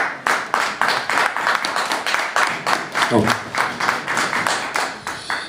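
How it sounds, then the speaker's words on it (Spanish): An audience at a comics convention talk gives strong, rhythmic clapping. Evenly spaced claps pulse several times a second, loud and close, with a brief voice partway through. "Vamos a darle un fuerte aplauso."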